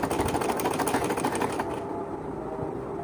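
Sewing machine stitching stretchy shirt fabric, a steady rapid mechanical whir with rhythmic needle ticking that runs close and continuous, easing slightly toward the end.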